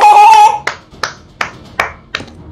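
Sharp hand claps, five distinct claps spaced about a third of a second apart, loud and close, following a brief burst of tonal game or music sound during a PUBG Mobile session.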